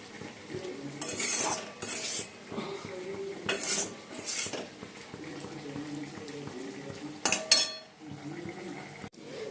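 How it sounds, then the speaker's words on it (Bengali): Unseasoned chicken cooks in a pan while a utensil stirs and scrapes against the metal, intermittent clinks and scrapes over a soft low bubbling, close by with quiet gaps between strokes. "আর এদিকে তো এই যে চিকেনটা হচ্ছে"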